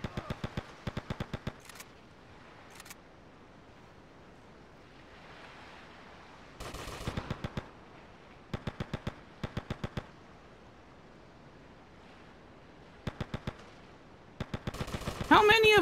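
Video game gunfire in Grand Theft Auto: Liberty City Stories, with rapid bursts of shots in several separate volleys, fairly faint, and a player's voice speaking between them.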